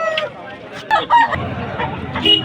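A year-old rooster at a poultry market gives short, bright calls and clucks over a busy background of voices and market noise, all packed into a couple of seconds.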